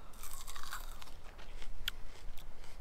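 Crunching bites into hard, sour mirabelle plums, close and crisp, with several quick bites and chews in succession and no talk over them.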